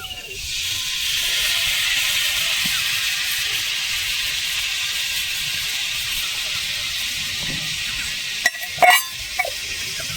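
A coconut and date jaggery filling hisses steadily in a pan while it is stirred, a continuous close sizzle followed by a few sharp scraping knocks near the end.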